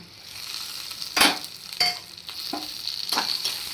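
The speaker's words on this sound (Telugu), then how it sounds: "ఇప్పుడైతే మనం ధనియాలు జీలకర్ర తాలింపు అయితే వేసేసుకుందాం" Coriander and cumin seeds tempering in hot oil in a pan for a ridge gourd chutney, a steady close sizzle with a few sharper crackles and stirring scrapes scattered throughout, no voices.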